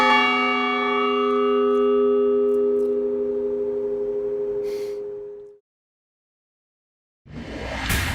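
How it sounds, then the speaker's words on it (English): A single deep clock tower bell strike rings out loud and clear, its tones slowly decaying for several seconds before silence, then another burst of sound begins. "So the clock has the capability of striking the bell,"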